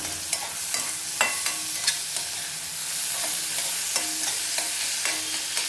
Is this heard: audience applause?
no